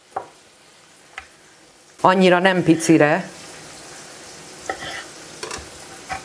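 Mushrooms fry in a little fat in a pan with a faint, steady background sizzle, broken by occasional stirring clatter, while someone speaks briefly in the middle.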